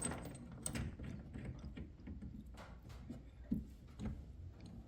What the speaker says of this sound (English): start the bolt, and then tighten her down